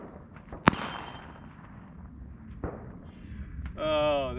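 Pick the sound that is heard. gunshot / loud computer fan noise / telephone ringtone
gunshot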